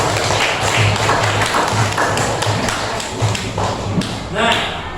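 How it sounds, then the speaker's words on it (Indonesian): A class of children claps hands together in a classroom, a steady, close patter of claps with a low rhythmic thumping and occasional voices mixed in. "Tepuk tangan untuk kita."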